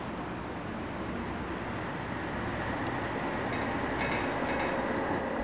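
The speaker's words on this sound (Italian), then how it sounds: "Circolano i tram Ganz" A Ganz tram runs along the rails in Budapest, giving a steady, loud rumbling roll that swells slightly toward the end, with no talking.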